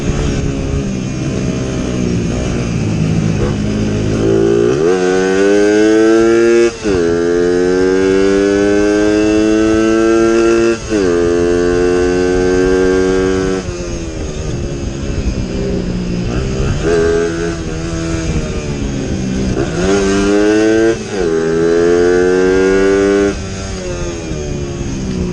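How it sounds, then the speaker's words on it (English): A motorcycle chase through Vietnamese streets, with a thief's bike fleeing a pursuing police rider; engines drone loudly and continuously, repeatedly revving up and dropping back as the bikes accelerate, with no pauses. "A thief on a motorcycle thought he could outrun the law, but he didn't count on this cop. Watch this high speed chase happen."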